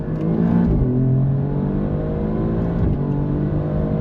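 An Alfa Romeo Stelvio Quadrifoglio sports SUV engine revs up sharply, with short blips as it downshifts into third then second, then settles into a loud steady drone from inside the vehicle.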